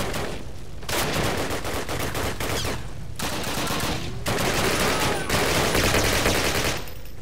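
Call of Duty gunfire during a Pegasus Bridge mission, with sustained loud rapid bursts of automatic weapons overlapping into a continuous battle din, broken by brief pauses between volleys.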